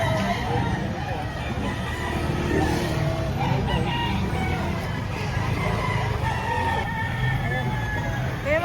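Roosters crow and chickens cluck steadily at a poultry market in Lipa, Batangas, loud and close throughout, with people talking and a murmur of crowd noise underneath.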